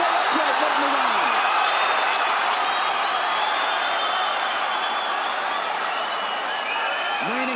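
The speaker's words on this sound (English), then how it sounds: "Have you ever heard a crowd like this?" A packed UFC 284 arena crowd roars continuously through the late stage of a lightweight title fight, a dense, loud wall of cheering and shouting with scattered whistles, steady for the whole stretch.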